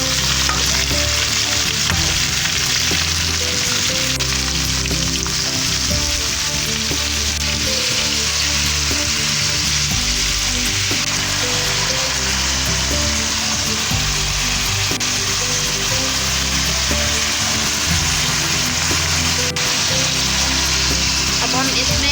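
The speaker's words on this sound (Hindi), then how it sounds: "एक पैन में मैंने अबाउट 2 टेबलस्पून ऑयल लिया और इसमें green chillies and garlic add कर लिया।" Tinda sizzles and fries in a pan of oil with green chilies and garlic, a dense, steady crackle and hiss that carries on close and unbroken throughout.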